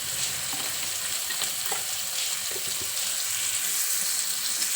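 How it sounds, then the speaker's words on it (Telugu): Paneer and soya fry in a pan with a steady, loud, close sizzle, broken by small stirring clicks and scrapes throughout. "ఇప్పుడు మనం కలిపి పెట్టుకున్న పన్నీరు ఇవన్నీ వేసుకొని ఒక 2-3 నిమిషాలు వేయించుకుందాం."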